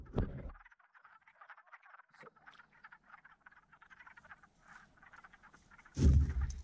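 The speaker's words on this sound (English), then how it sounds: "I'm going to take the frogs out" Frogs croaking in a vernal pool trap, a dense chorus of rattling calls running continuously, with loud handling thumps at the start and near the end.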